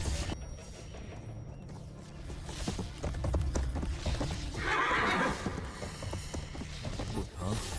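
Horse hooves clip-clop in an animated donghua, with rapid irregular knocks over a rumbling bed of noise, a horse whinny rising midway, and overlapping background effects throughout.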